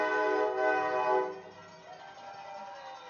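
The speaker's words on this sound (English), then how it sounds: "Train horn, that sounded like it was on that truck, though." Train horn sounding at a high school football game, a loud sustained multi-tone blast that fades and drops off after about a second and a half, heard at a distance over the quiet stadium.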